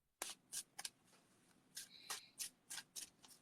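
Playing cards being shuffled by hand in several quick riffling bursts, close and fairly quiet, with short pauses between them and no talking.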